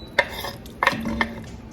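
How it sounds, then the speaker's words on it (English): Jackfruit goes into a pot for a Filipino dessert with tapioca and glutinous rice balls. A few close, brief clinks and knocks of a utensil against the pot are followed by a soft stir. "Now I'm going to add the jackfruit."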